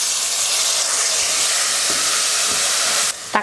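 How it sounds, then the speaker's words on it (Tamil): Tomato sautéing in a pan while cooking biryani, a steady loud sizzling hiss that runs evenly for about three seconds before cutting off abruptly, with no talking. "தக்காளி நல்லா வதங்கிருச்சு."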